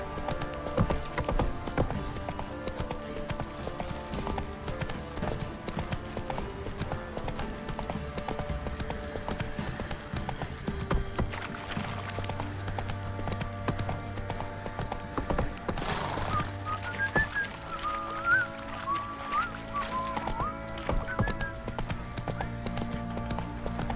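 Hooves clip-clop steadily from a horse riding along in The Witcher 3, a continuous rhythmic beat under game ambience, with brief voices and a short neigh.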